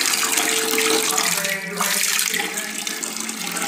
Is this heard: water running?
yes